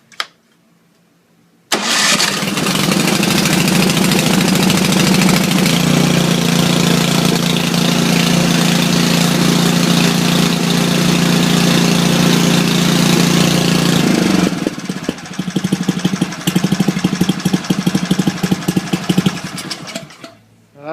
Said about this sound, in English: That's a Briggs and Stratton for you. Best running engines in the world, in my opinion.